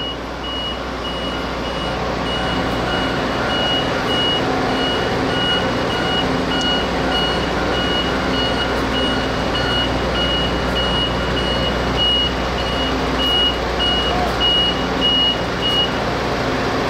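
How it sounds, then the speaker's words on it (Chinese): A big tow truck reverses at a railway station safety drill to haul away a crashed vehicle, its backup alarm beeping steadily and evenly over a constant diesel rumble, loud and close, with no talking. "出动我们的大卡车，把我们拖掉肇事的车辆脱离现场"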